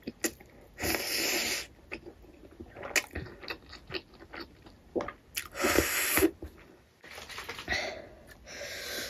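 Someone chews a big bite of hot momos up close, with irregular wet squishing and smacking mouth sounds, soft clicks and brief louder bursts over several seconds, with no talk.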